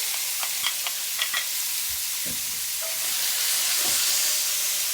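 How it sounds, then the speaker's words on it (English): Pork fries in hot oil, sizzling and hissing steadily, with scattered crackles and pops early on and a louder, fuller frying sizzle building toward the end. "A cooking show favorite, things that sizzle."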